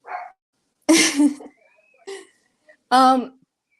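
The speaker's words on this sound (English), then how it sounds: "that's my dog. I don't know if you can hear it in the back." A pet dog barks and yips a few times in short separate bursts in the background of an indoor room, sounding fairly close and clear between quiet gaps.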